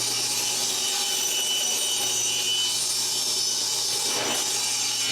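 A saw cuts through lumber for a six-foot raised planter box, making a steady, harsh, rasping whir that runs unbroken for several seconds at moderate loudness, with no voices.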